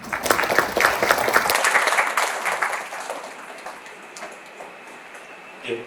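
Audience applause at an education administration policy forum in Gyeonggi, loud and thick at first, then thinning and fading to a sparse patter with a few scattered claps near the end.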